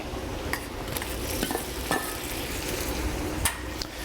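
Shrimp hitting a hot pan while cooking risotto Milanese, giving a steady close frying sizzle with a few light clicks of tongs and utensils against the pan.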